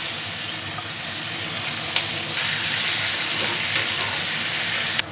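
Oil in a pan holds sugar, cardamom, cinnamon, bay leaves and dry red chillies, with onions added, for a mutton dish. It gives a loud, continuous, close sizzle and crackle with no one talking.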